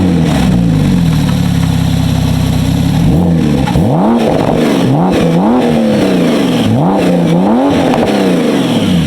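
A Porsche 911 Turbo with upgraded turbos, intercooler work, downpipes and a full exhaust system, running on E85 and meth, idles steadily and then revs sharply in repeated rising and falling bursts, loud and close.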